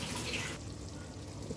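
Water pours into a cooking pot of sautéed goat meat, a short faint splashing rush that stops abruptly partway, followed by a quieter simmering hiss with no talking.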